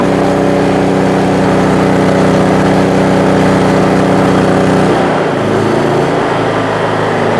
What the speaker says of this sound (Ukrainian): І бачите, навантаження вже пішло на генератор.